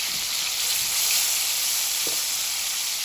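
Chicken wings fry in a pan for Jamaican brown stew chicken with a bright, constant sizzle, close and fairly loud, heard alone with a faint knock partway through.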